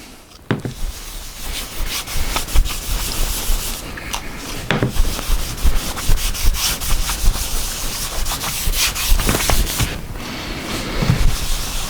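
Power sander buffing wax into a wooden bench, a loud, continuous rough rubbing hiss close by, with rhythmic scuffing strokes throughout and no speech.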